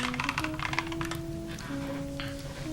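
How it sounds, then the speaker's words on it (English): Soft computer keyboard typing in a programming setting, quick irregular clicks of keys, fairly faint, mixed with a low steady tonal hum in the background and no speech. "I hear soothing keyboard sounds"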